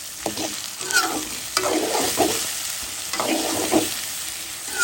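Bay leaf, cinnamon, cloves and cardamom frying in hot oil for a chicken gizzard curry, a steady broadband sizzle broken by repeated scraping and stirring strokes, close and fairly loud, with no voices.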